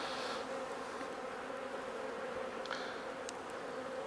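A honeybee swarm in a nuc box hums with a dense, steady buzz close by, punctuated by a few brief louder passes of individual bees.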